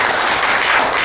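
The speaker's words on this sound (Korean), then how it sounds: "박수 부탁드립니다." Audience applause at a Korean policy forum on arts and culture for children with disabilities, dense and loud clapping from a crowd filling the short moment with no voices.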